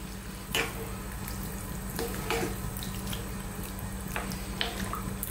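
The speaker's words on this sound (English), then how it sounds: "Let's give this a stir." A spoon swishing and scraping through coconut milk in a pot for Thai tom yum gai, a few soft strokes over a steady low bubbling hiss.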